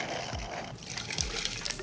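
Just under 8 ounces of water pours steadily into a tumbler over ice, with continuous close splashing and gurgling and light clinks of ice near the end.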